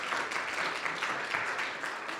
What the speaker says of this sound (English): round of applause for panelists